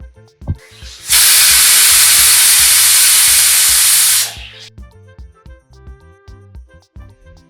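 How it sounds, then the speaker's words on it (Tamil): A pressure cooker cooking dried green peas with turmeric lets out one loud, steady whistling hiss of steam lasting about three seconds, after which quieter clinks and light kitchen knocks follow. "இப்போ ஒரு 3 விசில் வர வரைக்கும் நம்ம வெயிட் பண்ணலாம்."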